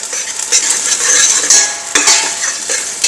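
Masala sizzles and fries in a pan while being stirred, with a steady bright hiss broken by short scraping strokes, close and loud, and no talking.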